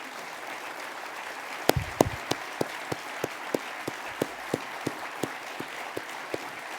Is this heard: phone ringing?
no